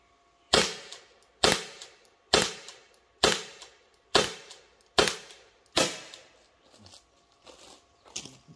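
.68 caliber less lethal rounds fired from a launcher, six sharp pops at a steady roughly one-second rhythm followed by a few fainter clicks, close and crisp.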